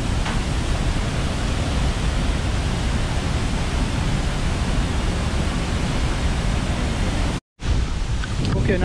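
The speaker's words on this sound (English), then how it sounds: "Okay, now we're on the other side of the waterfall." Iguazu Falls in Argentina roars as a dense, steady wash of waterfall noise, loud and close, broken only by a brief cut near the end.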